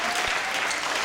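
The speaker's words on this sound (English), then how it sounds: "Yes, applause for Asif." A crowd at the 2018 USC School of Dramatic Arts commencement breaks into steady, full applause, a continuous wash of clapping with no talk over it.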